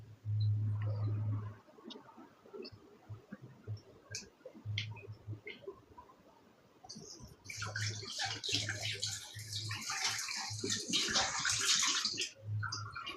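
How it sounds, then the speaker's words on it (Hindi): Water is poured into shalwar trousers, a loud splashing gush that begins partway through and carries on strongly for several seconds, after quieter scattered clicks and low hum. "शलवार में डालती हूँ पानी।"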